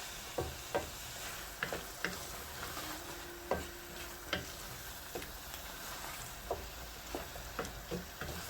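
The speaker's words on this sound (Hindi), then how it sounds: "देसी घी डाल के भी थोड़ी सी इसकी और बुनाई कर लेंगे।" Sarson ka saag with desi ghee being stirred and fried in a pot, a steady soft sizzle under repeated scraping and tapping of a spoon against the pan, close and fairly quiet with no talking.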